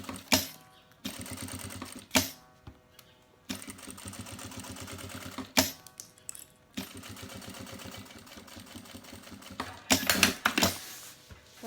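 A sewing machine stitches a seam on a synthetic-fabric vaccine cover, running in several rhythmic bursts of rapid mechanical clatter separated by brief pauses, close and clear with no talking.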